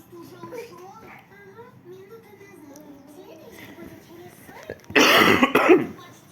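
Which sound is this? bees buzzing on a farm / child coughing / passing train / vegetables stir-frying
child coughing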